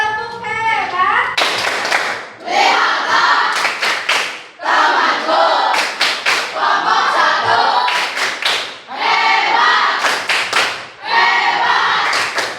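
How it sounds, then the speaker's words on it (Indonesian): A primary-school class performs a rhythmic clapping cheer, bursts of sharp claps in a patterned beat repeated several times, loud and close, with children's voices calling along between claps. "Kita kasih tepuk hebat untuk teman kita."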